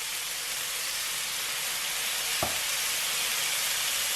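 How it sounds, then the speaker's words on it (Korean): Seasoned gochujang pork belly sizzles loudly and steadily in a hot pan, a close, unbroken hiss of frying fat with one brief thump partway through. "양념을 넣고 구워줄 겁니다."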